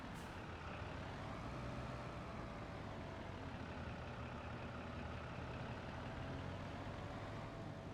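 Vehicle in Farming Simulator 25 at full throttle while reversing: a loud, steady engine drone with constant broadband roar and a faint whine held unchanged for several seconds, no talking.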